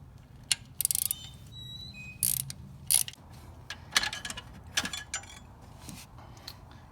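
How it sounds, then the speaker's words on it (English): A T30 Torx bit on a ratchet removes the dipstick bolt on a Silverado, with close, quiet ratchet clicks and sharp metallic ticks and clinks coming in short bursts. "So next let's take a T30 Torx bit and remove our dipstick out of the way."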